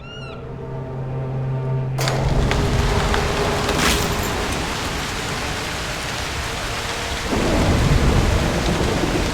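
Thunderstorm in the video game Broken Pieces: a sharp thunderclap breaks over a soft tonal backdrop, then heavy rain pours steadily with scattered cracks and a deeper rumbling swell near the end, loud and close, no voices.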